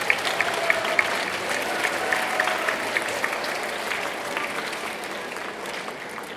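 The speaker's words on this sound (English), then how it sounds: "One last round of applause for those that had that academic achievement this year." A crowd at a school academic awards ceremony applauds steadily throughout, a dense, continuous patter of many hands clapping at an even level.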